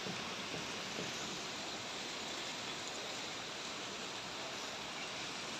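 Heavy rain pours over a waterlogged garden in Mumbai, a dense, unbroken wash of noise that stays constant and fairly even throughout, with no voices.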